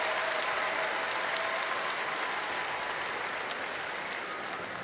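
A crowd of about six thousand applauds both teams before a Paralympic wheelchair basketball game between China and Spain, a steady dense clapping that fills the arena and fades slightly, with no talk over it.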